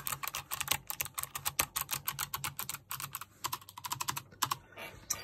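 Fast, steady typing on a Logitech G815 low-profile mechanical keyboard, a dense run of crisp, clicky keystrokes recorded up close with brief pauses between bursts.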